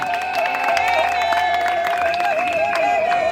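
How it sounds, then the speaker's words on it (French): Guests applauding at a civil wedding ceremony in Kinshasa, a dense steady clapping crowd with a sustained tonal music or voice line running through it. "On applaudit."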